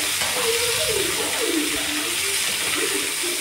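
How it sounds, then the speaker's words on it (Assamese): Pumpkin and new potatoes go into hot oil in a pan for an Assamese dinner, giving a loud, steady sizzle throughout with faint voice-like tones drifting underneath. "এতিয়া ৰঙালাও আৰু আলুখিনি দি দিলোঁ"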